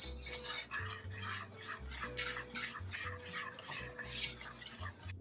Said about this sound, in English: Stir everything up.